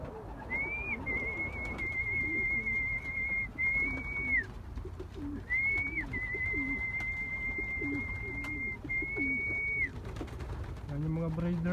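Stock pigeons kept by breeders give a low, rolling coo repeated over and over, close by, with a steady high electronic whine and other background noise running through it.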